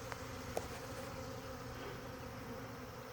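A swarm of bees clustered on both sides of a frame during a beekeeper's swarm capture, giving a steady, dense buzzing drone that fills the whole moment, with one brief click near the start.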